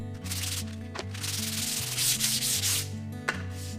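Hand sanding along the edge and sharp corner of a wooden stile for a Shaker-style door, several short rasping strokes close up, with a steady low hum in the background.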